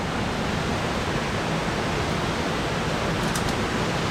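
Alligator Creek Falls pours down a rocky creek, a steady, dense, close hiss and rush of falling water that never varies, with no voices.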